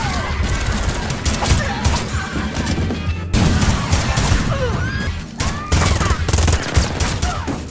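A film shootout with a Mexican gangster and his gang produces dense, continuous gunfire, rapid overlapping shots and crashes in loud bursts with brief lulls, backed by a score.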